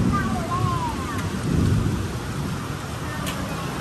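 Heavy rain pours steadily with gusty wind and a low rumble beneath, close and loud, with faint whistling tones drifting over the storm.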